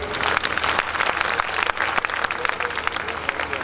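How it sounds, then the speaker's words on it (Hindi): Audience applause at a Hindi comic poetry gathering (hasya kavi sammelan) in Behror, a dense, sustained clapping from a large crowd that stays loud and steady throughout, with no speech over it. "एक बार ताली बजा दीजिए।"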